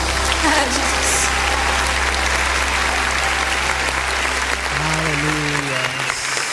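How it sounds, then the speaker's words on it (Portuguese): A church congregation at a worship service applauds to the Lord, steady massed clapping over a low sustained keyboard tone, while voices sing or speak intermittently through it. "aplauda ao Senhor"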